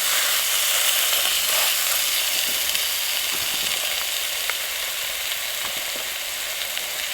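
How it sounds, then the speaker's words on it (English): Steak sizzles in an oiled pan on a camp stove, producing a continuous, dense, close hiss with faint crackles and pops and no talking. "in we go with the steak"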